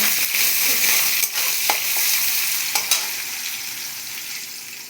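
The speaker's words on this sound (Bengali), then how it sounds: "পেঁয়াজ কুচিটা এটাকে আমি লাল লাল করে ভেজে নেব" Chopped onions fry in hot oil with bay leaf and cumin, giving a dense, continuous sizzle close up, broken by a few sharp clicks of a stirring utensil against the pan, with no voices.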